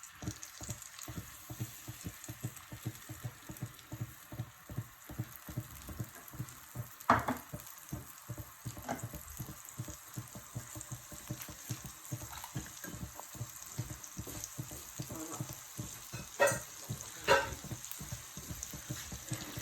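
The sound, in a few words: stirring garlic and sauce frying in a pan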